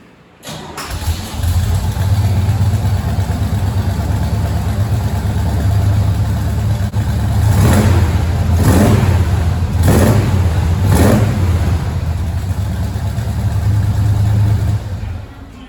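A Chevrolet square body truck engine runs loud and close, rising through several sharp revs in quick succession over a steady rumbling idle, with no talking.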